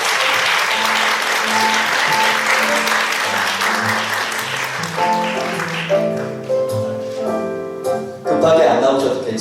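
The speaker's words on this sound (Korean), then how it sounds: "박수 주십시오" Audience applause for a student contestant at a youth science-communication competition, warm clapping that fades partway through as tonal music or chimes take over, with faint voices underneath.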